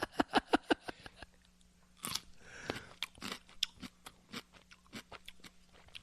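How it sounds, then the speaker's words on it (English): Someone bites into a crunchy, salty pickle up close, with a quick run of sharp crunches followed by wetter chewing and crackling bites, no talking. "Really salty pickle. Good crunch."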